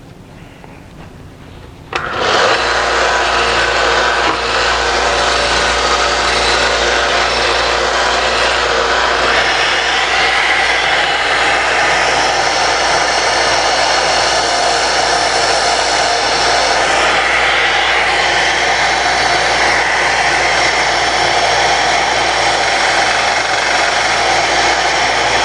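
Power sanding wheel and belt grinding a model car hood, starting abruptly with a loud, steady whine and rushing abrasive roar that holds continuously and close, with no voices.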